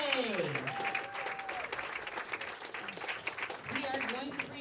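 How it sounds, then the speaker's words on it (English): Applause in the hall at a PWBA professional bowling tournament's stepladder finals, honoring the third place finisher; sustained clapping fills the whole stretch with some crowd noise and a voice over it. "let's give a huge round of applause for our 3rd place finisher, Ms. Jade Cotay."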